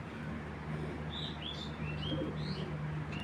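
A pair of racing pigeons, a cock and a hen, give repeated thin chirps and soft coos over a steady low indoor hum, close and moderately loud with no talk.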